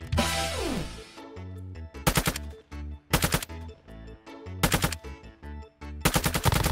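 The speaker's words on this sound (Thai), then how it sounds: "แต่มันนิ่งนะปืนนี้นิ่งมากเลยนะเวลายิงระยะไกลนะครับ" Rapid automatic gunfire from a rifle in the mobile shooter Warzone Mobile, loud close bursts repeating in quick rhythmic volleys with brief pauses between them, no talking.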